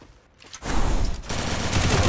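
Sustained automatic gunfire in a battle royale game starts after a brief quiet moment, then rattles on loud and close as one continuous burst.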